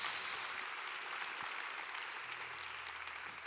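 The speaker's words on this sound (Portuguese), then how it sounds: "Quem pode dar um aplauso ao Senhor Jesus nessa noite?" A church congregation applauds in a steady wash of clapping that starts fuller and slowly thins, with a brief faint voice or tone underneath toward the end.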